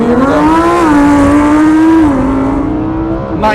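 A Tesla and a Lamborghini launch side by side in a 0-to-100-and-back-to-0 drag race, with a loud, close engine drone whose pitch climbs and settles steadily through a few seconds of hard acceleration, with no talk over it.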